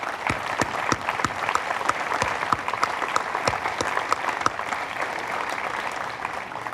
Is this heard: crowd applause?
yes